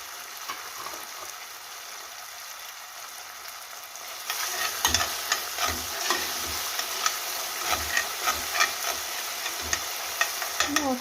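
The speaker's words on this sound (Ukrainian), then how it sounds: "Томатна паста піджарилася вже гарно." Tomato paste fries in a pan for stuffed peppers, a steady sizzle that grows louder partway through, with crackling pops and spoon scrapes as it is stirred.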